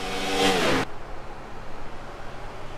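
A racing truck in a Texas stock-car truck-series video game roars and revs hard on a restart for under a second, engine whine loud and close, then cuts off abruptly, leaving only low background rumble.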